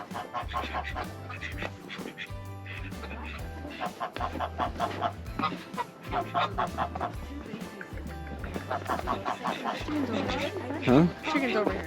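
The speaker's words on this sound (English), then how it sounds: "Got some chickens over here?" Chickens clucking near geese at a nature center during a holiday lights event, repeated bird calls mixed with people chatting nearby and a low rhythmic background thump throughout.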